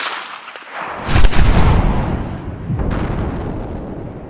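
A 7.62x39 rifle fired into bulletproof glass gives one sharp, loud blast with a booming impact, followed by a rumbling decay and a second fainter crack, with no talk.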